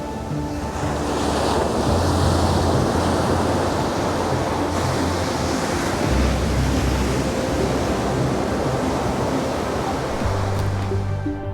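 Ocean waves surge onto a wide sandy beach on the Algarve coast, a loud, steady roar of surf mixed with wind buffeting the microphone throughout.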